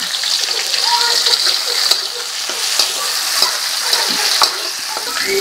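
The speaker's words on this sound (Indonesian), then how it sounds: "Sekarang aku mau masak tumis togenya pakai bawang putih sama cabai oranye aja. Kita tumis sampai harum." Garlic and orange chili stir-frying in a pan, a steady loud sizzle running throughout with intermittent scraping stir strokes from a spatula.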